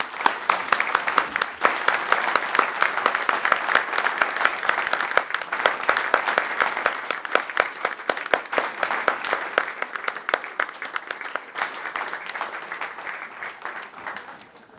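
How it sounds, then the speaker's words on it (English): Audience applause at a city council meeting, a long run of distinct claps from a modest crowd, fairly close and steady before thinning out and fading at the end. "I think you need applause."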